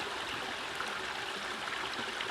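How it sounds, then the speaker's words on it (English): A woodland stream flows steadily in sunlit trees, a continuous close wash of running water with soft gurgles and no voices. "sound of the water, nice, peaceful and quiet"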